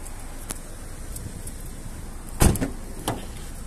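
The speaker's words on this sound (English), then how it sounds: "Electric windows." Electric windows on a Citroen C4 with a 1.6 petrol engine and automatic gearbox make a short, close motor burst partway through, followed by a fainter second pulse against a quiet background, with no talking.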